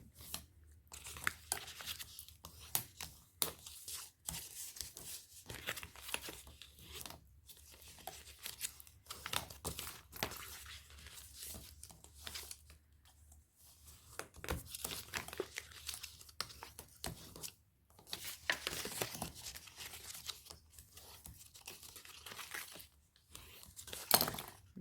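Paper being creased and folded by hand to form a tea advent calendar box, with repeated crinkling and crisp rustling strokes, close and fairly quiet, continuing throughout with brief pauses.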